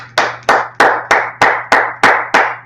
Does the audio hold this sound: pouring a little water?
no